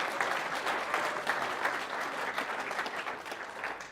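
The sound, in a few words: audience clapping for Caleb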